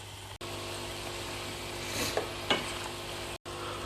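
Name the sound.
onions cooking with a little water in a pan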